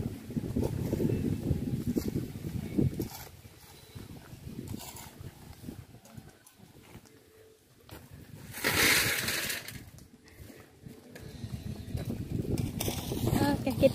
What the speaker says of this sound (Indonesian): Oh, kuat angin.